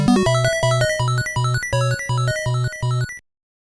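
A short 8-bit NES chiptune composed with MML: buzzy square-wave melody notes over a bouncing, evenly pulsed bass line, bright and electronic, stopping abruptly after about three seconds.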